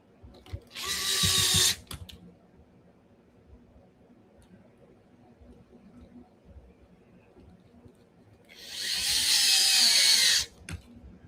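A power drill drives bumper bolts into a finished RC car kit, with two close, high-pitched whirring bursts, the first about a second long and the second about two seconds, separated by a quiet stretch of faint background noise.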